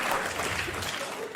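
One person claps hands steadily and fairly loudly in a room for a moment, a dense continuous patter of claps with no talking.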